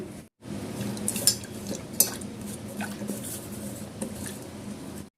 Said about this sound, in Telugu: దీన్ని ఇప్పుడు కడిగి వాటర్ పోసి పెట్టుకుందాం.